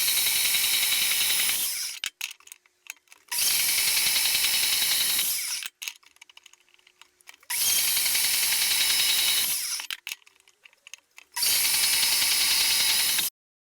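A portable bandsaw cuts the vertical part of a steel hitch in two long, loud, steady runs, separated by quiet gaps filled with light clanks and handling noise.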